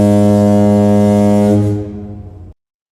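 A deep, loud foghorn blast sounds alone, holding one long steady tone for about two seconds before dropping off abruptly.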